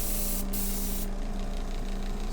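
Spray paint hisses out of a can in one continuous burst as a light base coat goes onto a model, close and steady, with a very brief break near the start.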